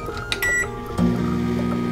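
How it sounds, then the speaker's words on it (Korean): A microwave oven runs with a steady electrical hum after a few clicks and a short tone at the start, close and fairly quiet. "이제 전자레인지에 넣어서 으깨지기 쉽게 40초, 50초 정도 전자레인지에 넣어서 돌려볼게요"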